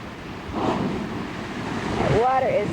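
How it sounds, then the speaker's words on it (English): Ocean waves surge and wash onto a Tongan shore in a steady broad rush with wind noise, while a voice speaks briefly over the surf near the end. "waiting for one of these waves to wash him away"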